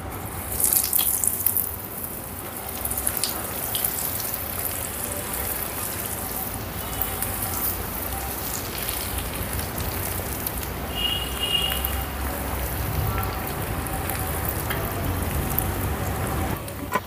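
Soft pakodi batter with onion, green chilli and mint frying in hot oil, a steady dense sizzle and crackle with bubbling, close and continuous throughout.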